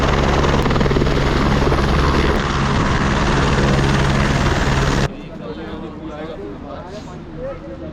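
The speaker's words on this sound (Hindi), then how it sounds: "एक हेलीकॉप्टर की आवाज़ सुनाई दे रही है बिल्कुल ठीक सामने" Helicopter at Kedarnath during the temple opening, a loud steady rotor and engine roar filling the first five seconds, then dropping away to a fainter distant drone with background crowd murmur.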